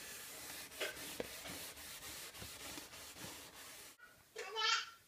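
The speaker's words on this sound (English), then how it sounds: "I'm using 120 grit sanding discs on the DeWalt" A DeWalt sander with 120 grit discs working over kitchen cabinets gives a repeated rasping rub in uneven strokes, then pauses; a voice rises briefly at the close.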